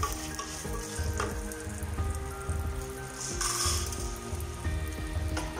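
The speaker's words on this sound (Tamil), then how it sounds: "ஒரு 20 வரமிளகாய் போட்டு வறுத்து அரை கடுப்பு அளவு உளுத்தம் பருப்பு" Dried red chillies and white urad dal roast in a pan for a dry coriander chutney, a steady crackling sizzle with repeated scrapes and knocks of stirring, close up with no talking.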